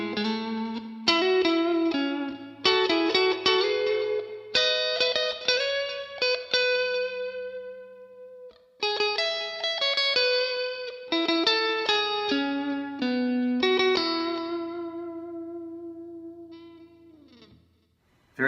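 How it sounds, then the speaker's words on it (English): Electric guitar played through the neck pickup of a Strat-style loaded pickguard, clean bluesy licks and bends with effects, phrases separated by brief pauses and a final note ringing out and fading. "First up is going to be the neck pickup."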